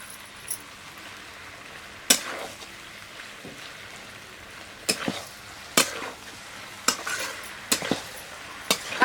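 Black cumin seeds go into a frying pan of dried fish cooking with taro stems, and a utensil scrapes and clinks against the pan in sparse, sharp knocks over a soft, quiet sizzle.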